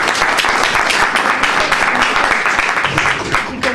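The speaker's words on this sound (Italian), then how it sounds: "quindi farei un applauso anche a loro" Audience applause for the sponsors at a national painting competition event run by Pro Loco Adria, dense and steady clapping from a crowd that fills the whole stretch at a loud, even level.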